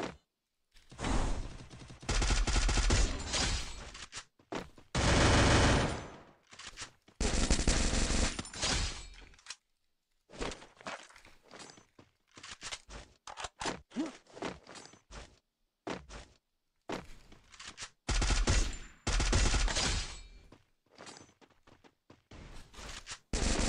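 Free Fire gunfire in ranked mode, repeated loud automatic bursts and scattered single shots separated by brief gaps over about twenty seconds, close and dominant with no speech.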